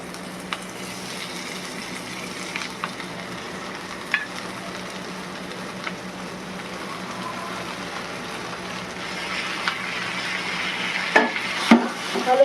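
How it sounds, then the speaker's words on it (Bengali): Gobindobhog rice fries with eggs in a pan for egg pulao, a steady soft sizzle under occasional scraping and stirring with a spoon, with a few louder clinks near the end. "এবার এর মধ্যে আমি গোবিন্দভোগ চালটা দিয়ে দেবো।"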